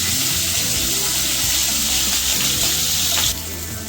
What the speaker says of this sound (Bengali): চিংড়ি মাছটা একটা সাইড ভাজা হয়ে গেছে, পাল্টিয়ে আরেকটা সাইড ভেজে নেব।